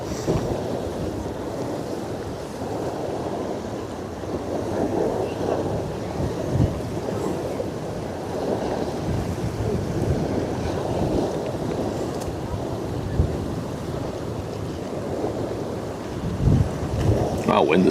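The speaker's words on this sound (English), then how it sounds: "wind is picking up all of a sudden" Strong wind gusts roar across an open seaside estuary during a tall ships race, a continuous rough rumble with waves beneath and occasional voices.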